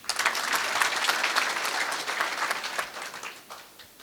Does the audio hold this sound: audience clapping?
yes